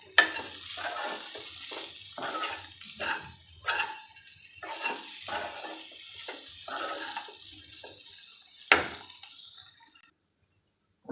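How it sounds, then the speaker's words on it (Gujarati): Sliced fried potato chips tossed by hand with amchur, chili flakes and spices in a bowl, a series of soft rustling, scraping strokes in irregular bursts, fairly quiet and close, ending in silence. "હવે બધી વસ્તુને બટાકા સાથે હળવા હાથે મિક્સ કરી લઈએ"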